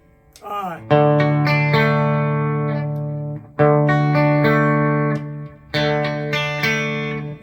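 A G&L G-200 electric guitar rings out in three sustained chords, each switched to a different pickup tone, bright and loud, every chord struck and then left to ring before the next.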